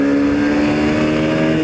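A 2021 Hero Hunk 160R motorcycle engine is gently accelerated, producing a steady, close, even engine drone with a sustained tone and no pauses.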